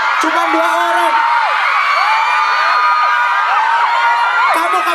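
Crowd of fans at a meet-and-greet event for the film The Doll 2 in a shopping mall, shouting, whooping and cheering loudly and continuously, with high yells rising over the noise.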